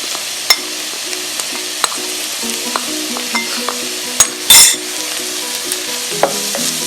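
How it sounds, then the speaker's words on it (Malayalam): Chili, turmeric and black pepper powders sautéed with onions in a pan over low flame for a Kerala fish masala, giving a steady soft sizzle broken by repeated sharp scraping taps of a spoon stirring against the pan. "ഫ്ലെയിം കുറച്ചിട്ടിട്ട് വഴറ്റി കൊടുക്കാം കേട്ടോ."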